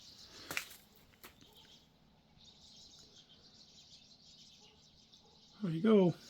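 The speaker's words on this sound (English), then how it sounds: "There are birds everywhere." Scattered birds chirp faintly outdoors on a farm on a cold morning as snow melts, the calls thin and distant over quiet air, with a louder burst of sound close by near the end.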